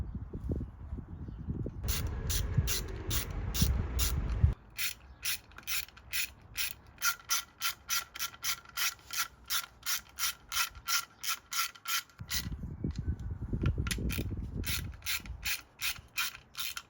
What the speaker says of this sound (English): I'll put this one on and then torque them at the same time.